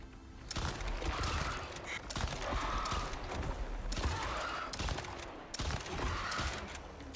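Gunfire in the video game Icarus, a run of sharp repeated shots at a steady pace, each burst close and loud over a busy game backdrop with no talking.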